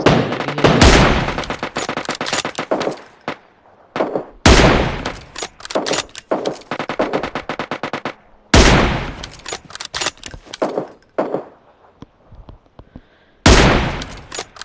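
Sniper rifle fire in the mobile battle-royale game PUBG Mobile, loud sharp shots arriving in several bursts, each followed by a decaying tail, separated by short quiet gaps.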